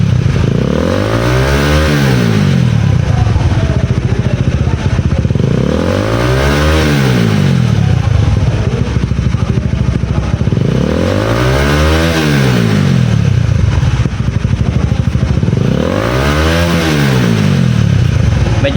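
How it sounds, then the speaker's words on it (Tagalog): Motorcycle engine with an aftermarket power pipe exhaust, revved hard four times in a steady cycle, each rise climbing to a loud, raspy peak and then falling back to a rough idle. It is close and loud with no talk over it. "Kunin ang susi, buksan ang makina, sabay piga sa throttle."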